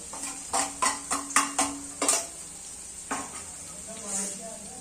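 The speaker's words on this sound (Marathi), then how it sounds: "आपण हे हिरवी मिरची तेलात घालून घेऊया म्हणजे छान टेस्टी येईल" Green chillies sizzle in hot oil for a buttermilk kadhi, with a run of sharp metallic clinks and scrapes of a spoon against the pan over a steady hiss, fading to quieter stirring.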